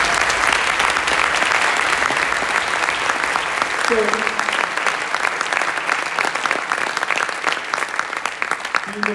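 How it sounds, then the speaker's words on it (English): An audience at a community concert band festival claps for an award recipient, dense and loud applause that persists throughout while a voice speaks briefly over it. "give him a round of applause"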